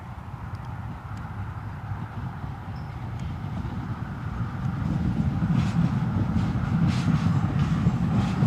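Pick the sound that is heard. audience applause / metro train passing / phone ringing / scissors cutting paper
metro train passing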